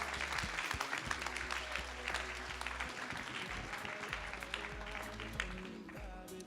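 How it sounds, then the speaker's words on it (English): Audience at a fashion show applauding, a loose patter of clapping from a crowd under music and scattered voices, fairly quiet and continuous. "please can I get a round of applause for you guys?"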